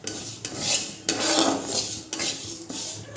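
Moong dal dry-roasting in a hot pan, stirred in repeated scraping sweeps roughly every second, giving a rhythmic gritty rasp of lentils and spoon against metal, close up and with no voices.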